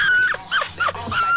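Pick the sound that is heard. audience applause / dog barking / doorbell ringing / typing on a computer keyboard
dog barking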